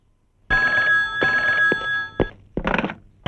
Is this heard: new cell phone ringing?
yes